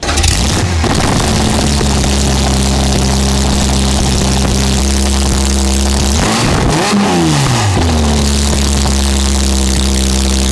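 A Dodge Challenger Hellcat's engine roars loud and close, holding a steady high drone, then dipping and climbing again as the revs sweep back up.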